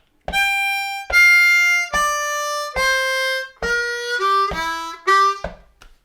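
A harmonica plays a short phrase of distinct sustained notes, some bending downward in pitch including a 3 draw half step bend, clear and close with no voices.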